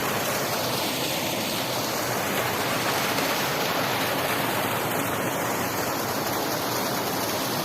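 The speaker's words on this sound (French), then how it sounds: "Waouh, avec une belle petite cascade." A steady, broad rush of falling water fills the whole stretch, constant and close, with no pauses or voices.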